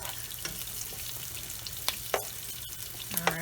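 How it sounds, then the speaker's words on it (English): Onions sizzle in a frying pan during stovetop lasagna cooking. A steady, close crackling hiss continues throughout, with occasional stirring scrapes and spatters and no talking. "The sound of sizzling onions."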